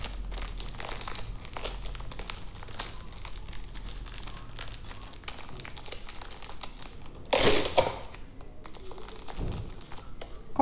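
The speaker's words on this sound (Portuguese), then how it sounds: "Mais um durex." Adhesive tape is pulled and pressed onto packaging wrapped like a small gift around a pre-filled cake, giving one short, loud crinkling rip midway through an otherwise quiet stretch of faint handling rustle.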